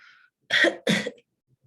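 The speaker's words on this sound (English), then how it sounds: "I have a cough." Two close, forceful coughs in quick succession, a short pause after a faint breath at the start, then quiet.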